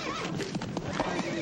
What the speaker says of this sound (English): Your horse ran away again, Mr. McGee.